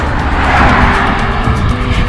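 Cars roll past on a road near a cyclist in Brno, a loud, steady rushing roar of traffic and tyres that fills the whole moment without any voices.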